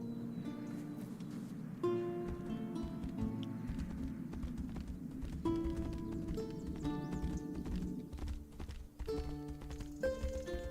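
Steady clip-clop of horse hooves trotting at an even rhythm in the game Tainted Grail: The Fall of Avalon, set against a bed of tonal game music.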